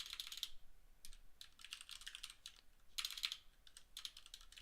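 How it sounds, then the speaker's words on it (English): Rapid typing on a computer keyboard while coding a game framework in Nim: quick bursts of crisp key clicks separated by short pauses, close and clear with no voices. "I'm having a hard time typing."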